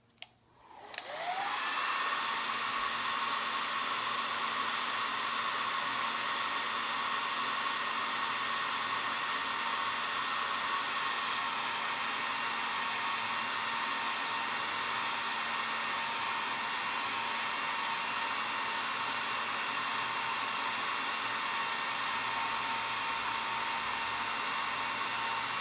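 A hair dryer blows steadily to dry paint on a snowman craft, switching on with a click and then running as a loud, constant whooshing whine with no talk.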